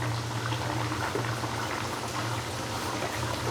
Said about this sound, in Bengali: মাংসটা বলক চলে আসছে